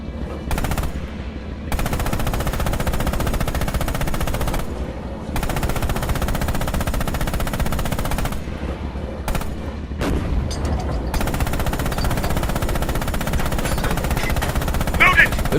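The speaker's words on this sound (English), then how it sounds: "Open fire with the coax MG on those targets." A tank's coaxial machine gun in Red Orchestra 2, a Stalingrad-era WWII game, fires long sustained bursts with short pauses between them, loud and close throughout, with a voice briefly heard amid the firing.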